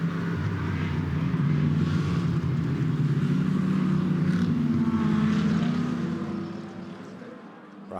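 GT race cars from the ADAC GT Masters at the Sachsenring roll behind the safety car at reduced pace, giving a steady, rumbling engine drone that thins toward the end, with no speech over it.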